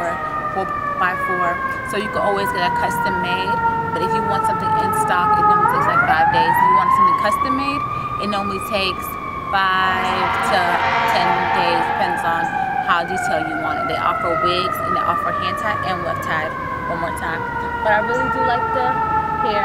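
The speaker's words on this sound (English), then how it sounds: "You can hear the sirens" Emergency vehicle sirens wail outdoors, loud and sustained, rising and falling in pitch across the whole stretch while someone talks steadily over them.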